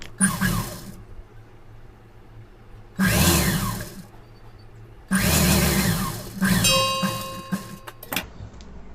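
A sewing machine stitches a blouse patti (waist belt) up close, running in three loud bursts of rapid mechanical whirring with short pauses between them and a light clink near the end.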